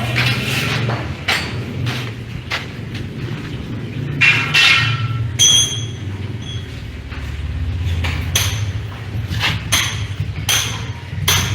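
Sharp hammer blows drive a nail through a plastic Aqua bottle, several loud irregular metallic strikes ringing out over a steady low hum, close and clear.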